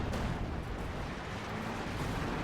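Anti-tank grenade explosions in a Company of Heroes 2 battle against StuG assault guns, a steady roar of heavy blasts and rumbling booms blurring together, loud and dense with no clear pauses.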